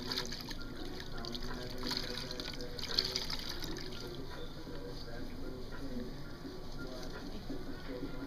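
Tap water runs steadily onto a second rag being wetted at a sink during foot care, a continuous soft trickle and splash heard close up under a faint background hum.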